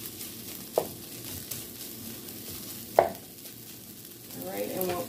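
Beef fried rice is stir-fried in a pan, with a low steady sizzle under two sharp spatula knocks against the pan and a rising scrape of stirring at the end.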